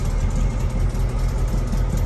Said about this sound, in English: this little car here just got started for the first time by its next owner